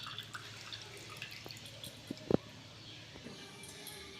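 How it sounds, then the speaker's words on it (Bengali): Water drains from fresh chhana (cottage cheese) held in a cloth, making soft close drips and trickles, with a couple of louder splashy drops near the middle and light background noise. "এবার এইভাবে কাপড়টাকে আমি ধরে ছানাটাকে ভালো করে জল ঝরিয়ে নেব।"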